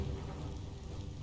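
Rain pours with a low rumble of thunder in the video game Biomutant, a dense, steady hiss over deep rolling noise that fills the short stretch without speech.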